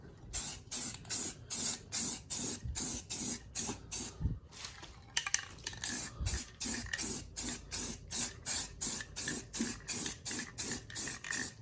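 Spray primer is misted onto car rims in a long run of short, evenly spaced hissing bursts, close and fairly loud, broken by one brief pause partway through.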